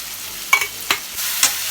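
Homemade spice paste hits hot oil in a pan for a dried-fish dish, giving a bright continuous sizzle broken by three or four quick stirring scrapes, close and fairly loud.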